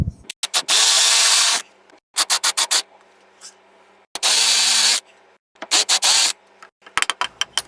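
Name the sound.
hand drill with 5/8 inch Forstner bit drilling wood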